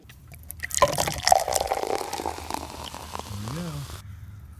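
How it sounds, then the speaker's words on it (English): Motor oil draining from the drain plug of a 1996 Ford Ranger 2.3L, a steady liquid pour and patter that runs for several seconds before stopping abruptly. "So I decided to drain the oil."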